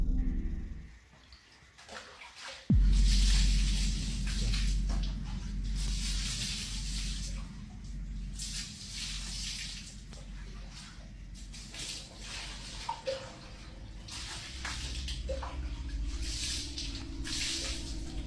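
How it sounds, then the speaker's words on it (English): Water sloshes and splashes in a bathtub at night, a faint, irregular wet churning with scattered drips and hissy bursts that carry on for a long stretch, muffled and somewhat distant. "Sounded like someone was in a tub splashing around or something."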